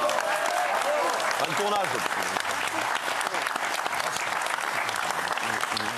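A TV studio audience applauds a departing crew member at the end of the season, with thick, continuous clapping throughout and a brief spoken phrase over it.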